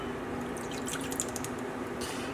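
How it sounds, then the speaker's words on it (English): About a third of a cup of water is poured into a pot for couscous, a faint, soft trickle over quiet kitchen background lasting a couple of seconds. "add 1/3 cup of water"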